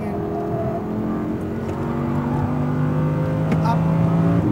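An Audi R8 V10 RWD accelerating on a track, its engine droning loud and close with pitch climbing steadily, a brief shift-like dip partway through, with a voice speaking over it.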